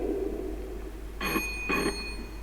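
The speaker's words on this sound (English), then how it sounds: "Mom, your phone is ringing." A phone rings at home in two short electronic bursts with a pause between them, heard alone over a low steady hum.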